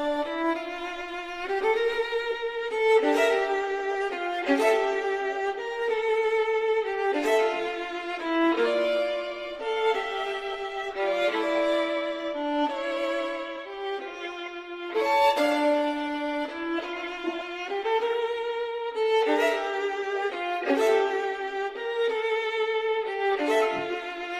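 Harpsichord-like keyboard music plays a Bach variation, a steady, flowing pattern of broken chords with no voices, bright and continuous throughout.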